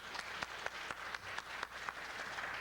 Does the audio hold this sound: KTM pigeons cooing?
no